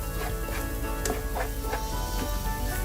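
Ginger garlic paste frying in a pan for beef biryani, giving a steady close sizzle with a few soft stirring scrapes and no talk.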